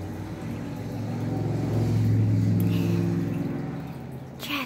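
A single vehicle passes through city traffic: a low engine rumble swells to a peak midway, then fades, with a brief noise burst at the very end.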